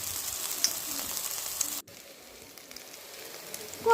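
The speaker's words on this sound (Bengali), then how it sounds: "তারপর সেগুলোকে ছোট ছোট আকারে বড়া ভেজে নেব।" Small lentil fritters with banana flower frying in hot oil, a soft continuous sizzle that cuts out abruptly midway, then resumes more faintly before a brief clatter at the end.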